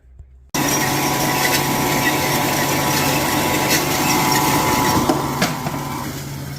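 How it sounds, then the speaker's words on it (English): A metal pipe is cut down to length for a New Holland T6050 or T6.175 loader cylinder ram repair. A loud, steady power-tool cutting roar starts after a brief quiet moment and runs unbroken, with a few sharper scrapes near the end. "we do have to cut this pipe because I don't need 6 inches of pipe"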